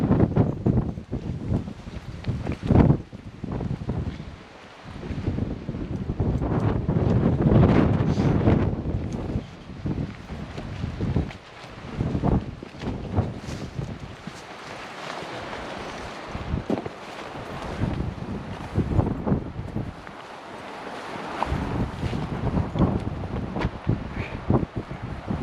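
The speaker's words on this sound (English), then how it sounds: "Might get quite a lot of wind around here" Strong coastal wind on a clifftop walk near Black Head, St Austell, Cornwall, roars and buffets across the microphone in continuous gusts, rising and falling loudly throughout with no speech.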